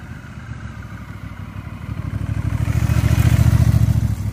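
A 2021 Honda Rebel 1100 motorcycle fitted with a Memphis Shades Pop Top sportshield rides past, its engine throbbing in an even rhythm that grows louder and closer.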